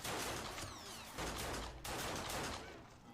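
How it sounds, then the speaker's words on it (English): Loud pistol fire in the video game Fallen Earth, rapid overlapping shots in two dense bursts with a brief gap between, harsh and close, no talk. "God, those pistols are loud."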